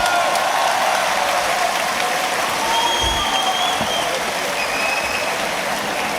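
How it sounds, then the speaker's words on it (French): At a Duel Fighting MMA event, a crowd gives a dense, continuous round of applause with a hiss-like texture, steady in level throughout, with a few faint tones drifting over it. "Un peu d'applaudissements s'il vous plaît."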